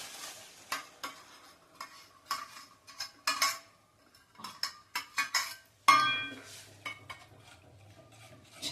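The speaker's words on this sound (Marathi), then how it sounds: "छान हलवून घ्यायचे" A spoon scrapes and clinks around a pot as cooked dal is stirred into radish curry, with irregular close strokes and knocks over a faint sizzle, and one sharper clank partway through.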